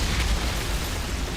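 A Fire Witch's Eruption skill detonates in Outriders, a dense, sustained rumbling blast with heavy low-end roar that holds steady throughout, with no voices.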